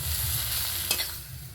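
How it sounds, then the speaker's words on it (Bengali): Spices and potato filling being stirred together in a hot pan, a steady close sizzle with a single scrape of the spoon near the end. "এবারে সব কিছু একসঙ্গে ভালো করে একটু নেড়ে চেড়ে মিশিয়ে নেব।"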